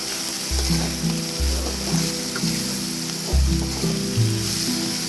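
Prawns fry with onion and green chili in a pan, giving a loud, steady sizzle that is broken by several stirring sounds and a low thumping hum.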